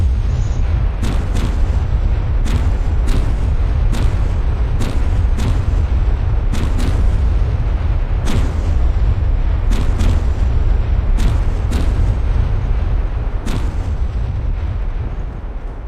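Rapid booming shots from video game weapons firing a heavy, loud stream of blasts, with a brief pause partway through for a reload before the steady firing resumes, alone without voices.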